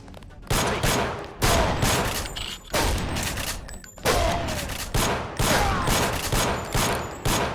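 Gunfire in Deus Ex with the GMDX mod: loud bursts of rapid shots, about eight separate volleys in quick succession, each cracking sharply and then trailing off.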